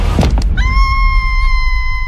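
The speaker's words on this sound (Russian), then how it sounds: "Отставить вопли!" A scream in the 2018 animated film Gnome Alone, a sustained high shrill cry that starts abruptly and holds steady after a brief burst of low thumping noise.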